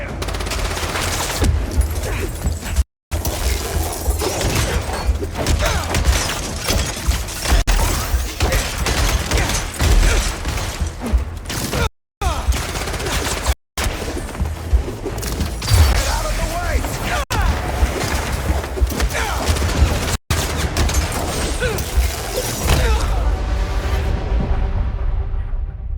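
Sustained gunfire in the video game Marvel's Spider-Man 2, a dense, loud fusillade of automatic shots lasting the whole stretch with brief gaps, under occasional voices.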